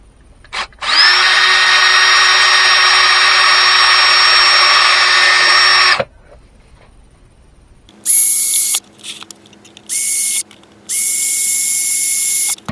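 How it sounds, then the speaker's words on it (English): A power drill whirs loudly for several seconds drilling into wood, then quiet, followed by a few shorter bursts of a higher-pitched screw gun spinning up and stopping. "drill that real quick."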